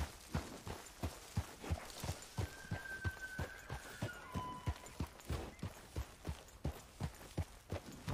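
A horse's hooves clop at a steady walking pace in Red Dead Redemption 2, soft, regular thuds with faint ambient tones behind them and no talk.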